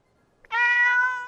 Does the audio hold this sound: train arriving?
no